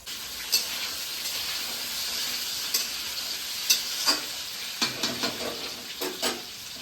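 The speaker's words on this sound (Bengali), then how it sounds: "দেখলে এর মধ্যে আলু ভাজা হচ্ছে" Potatoes fry in a pan, giving a continuous close hiss and sizzle broken by several sharp scraping stirs, clustered toward the end, with no talking.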